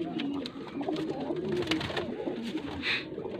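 Pigeons from a Faisalabad loft coo steadily in low, rolling murmurs, with overlapping calls close by and brief fluttery rustles mixed in.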